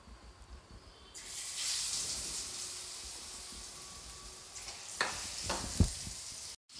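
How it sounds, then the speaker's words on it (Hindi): Jackfruit pieces deep-frying in oil, a soft bubbling start that swells into a bright steady sizzle after a second, with a few clacks of a utensil near the end before it cuts off. "अब मैं जो बचे हुए जो कटहल हैं उनको भी मैं फ्राई करके निकाल लेती हूँ।"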